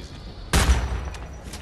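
A single loud gun blast in Homefront: The Revolution cracks out of a quiet background, followed by a short fading rumble and a couple of faint later pops.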